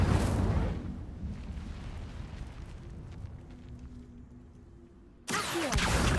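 An Incendio fire spell in Hogwarts Legacy makes a loud, roaring burst that fades into a crackling rumble, then a second sharp blast hits near the end.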